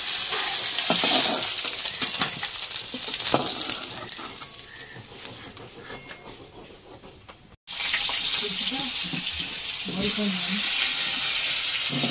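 Rohu fish frying in oil in a home kitchen pan, a steady broadband sizzle that runs throughout, briefly dropping out before resuming, with some faint background clatter and possible quiet voices.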